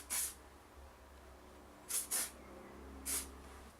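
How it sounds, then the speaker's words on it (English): Shimmer's Texture Wave Dry Workable Spray sprayed onto hair in four short, close aerosol hisses: one, then a quick pair, then one more, over a quiet background. "I have Shimmer's Texture Wave Dry Workable Spray. Basically creates texture to your hair."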